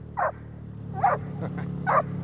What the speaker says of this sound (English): All right, you keep barking.